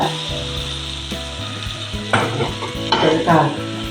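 Boiled prawns cooked with turmeric and salt are stirred into a tomato curry in a pan, with steady sizzling and frying and scraping spoon strokes growing louder toward the end.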